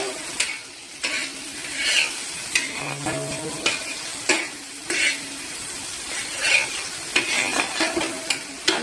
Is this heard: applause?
no